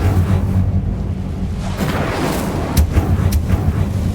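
Incendio fire spell cast in Hogwarts Legacy, a loud rumbling whoosh with deep booming low end and a few sharp bursts near the end, with no talking.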